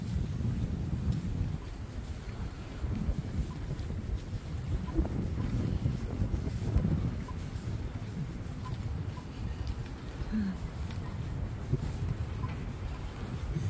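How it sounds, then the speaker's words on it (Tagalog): Strong wind buffets the microphone outdoors in a continuous low roaring rumble with gusty surges and no speech. "Parang nalulunod ako sa lakas ng hangin."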